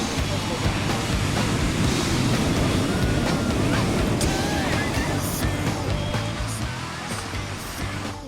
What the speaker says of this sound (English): we blew off some steam by running away from waves at a black sand beach just south of Hilo